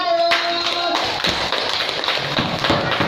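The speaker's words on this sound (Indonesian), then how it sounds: "tepuk tangan untuk kelompok 1" Applause from a classroom for the first student group after their presentation, a dense patter of many hands clapping close by, with talk overlapping it.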